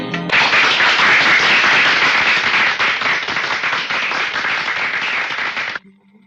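Loud, dense audience applause in a Shah Rukh Khan film scene, continuous crackling claps for almost six seconds before cutting off abruptly into near silence.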